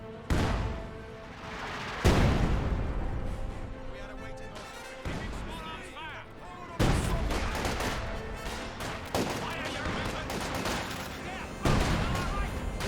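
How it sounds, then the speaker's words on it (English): An artillery gun barrage in the strategy game Company of Heroes 2, with heavy blasts and crackling gunfire landing in repeated loud waves that keep a dense, rumbling battle din going throughout. "This gun barrage will be dodged."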